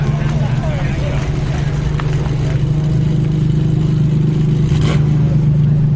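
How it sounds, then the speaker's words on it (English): A Ferrari 308 GTB passes, then a Ferrari Enzo, each giving a steady low engine drone that builds as the cars cruise close by, loud throughout, among other supercars. "if you'd like to hear the sound of a 308 GTB followed by an Enzo"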